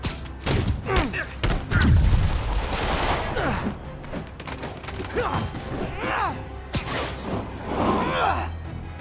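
Gunfire in the Spider-Man video game, several shots and thuds mixed with mechanical clanks and creaks, fairly loud throughout, with voices talking over the action.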